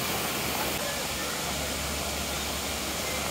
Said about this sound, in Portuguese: E esse caminho vai mostrar a cachoeira vista por trás